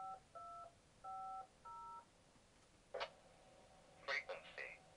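Radio DTMF keypad tones keying in a code: five short beeps in quick uneven groups, then bursts of chirpy, garbled digital radio audio, faint and close.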